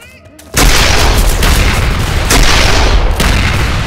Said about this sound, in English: Got a grenade launcher!